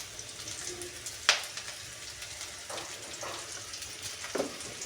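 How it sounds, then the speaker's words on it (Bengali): Oil poured into a hot pan while cooking lau shak with prawns sets off a soft, low sizzle, broken by a sharp pouring splash and a few faint clinks. "আমি তার মধ্যে আরও একটু তেল দিয়ে দিচ্ছি।"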